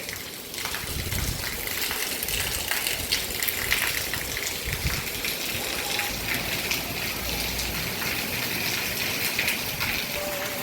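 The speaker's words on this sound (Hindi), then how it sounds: "फिर बारिश हो गई है।" Steady rain falls on an afternoon park walk, a dense, even hiss of drops pattering on surfaces that continues unbroken at moderate loudness, with faint sounds of activity beneath.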